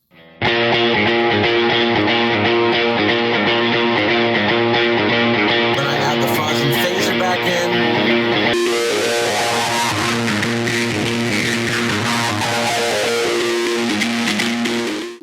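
Dry electric guitar end riff from a recorded cover song, fuzz and phaser switched off, a dense, loud, sustained strummed passage lasting throughout with a brighter section midway, no speech.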